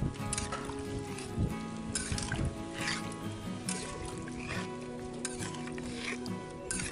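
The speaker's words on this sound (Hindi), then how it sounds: "अब इसमें डालेंगे ग्रेवी के लिए पानी।" Water pours into duck curry gravy in a cooking pot, a steady trickling splash that runs continuously against a busy kitchen backdrop.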